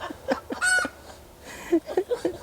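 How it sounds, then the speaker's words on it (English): A broody hen clucks and squawks in a garden, with a loud, drawn-out complaining call followed by a run of short irregular clucks, close and clear. "She is our broody hen."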